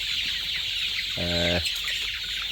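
A single short hen cluck stands out near the middle from chickens in a coop with neem leaves, over a steady background hum.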